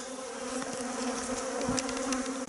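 Honeybees from a hive buzz close by in a steady, humming swarm while frames are brushed, individual bees zipping past now and then.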